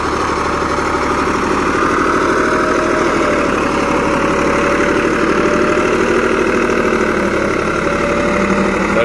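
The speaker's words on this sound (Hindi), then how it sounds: "35 HP ट्रैक्टर है भाई।" A Greaves 353 35 HP tractor engine idles close by, with a steady, loud, throbbing low rumble and a rhythmic knock running evenly throughout with no pause.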